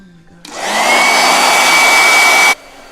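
A blow dryer switches on, runs steadily and loudly for about two seconds with a whining tone, then cuts off abruptly.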